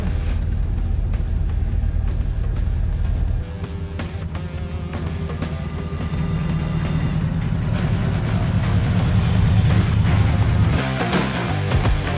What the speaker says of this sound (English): Our power steering's not working and our exhaust is dragging pretty bad.